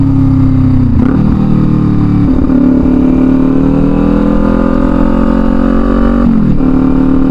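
A Kawasaki Ninja 400 motorcycle out on a ride gives a loud, close engine drone whose pitch climbs steadily through each gear, broken by three shifts, with no talking.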